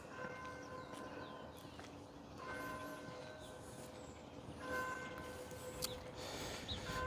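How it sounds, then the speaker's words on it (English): A church bell in New Harmony, Indiana tolls steadily in the distance, its sustained ringing tones drifting over faint outdoor background noise with no talking. "You can hear the church bell."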